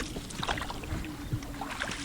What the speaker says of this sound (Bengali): নদীর মাঝখানে চলে এসেছি